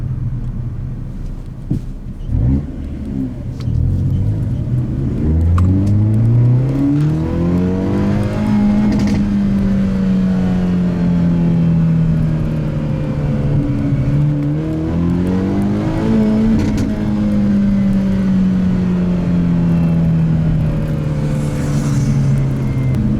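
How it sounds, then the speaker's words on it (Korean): A Hyundai Avante N's engine rumbles loudly and steadily through its active sound system in sporty mode, heard with windows open, its exhaust note rising and falling in pitch as the revs climb and ease off, with no talking. "창문 열어놓고 배기음도 최대한 크게로 크게 해놓고 한번 들려드려 보겠습니다"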